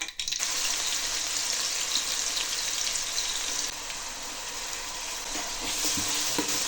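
Onions sautéing with black cumin in a pan for crab gravy: a dense, steady sizzle with faint stirring scrapes throughout, close and even, no voices.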